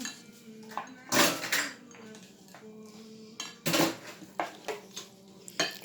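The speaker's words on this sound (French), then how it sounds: "je vais touiller mes œufs" A utensil stirs eggs in a bowl, scraping and clinking against the sides in short irregular bursts with quiet pauses between.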